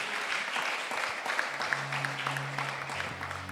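A church congregation claps in steady, full applause, a dense wash of hands filling the room at moderate volume, with a low sustained tone underneath toward the end.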